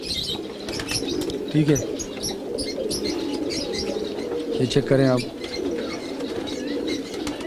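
Highflyer pigeons in a loft coo softly in low, rolling phrases, with chirps and a brief flutter of wings, while someone talks over them at times.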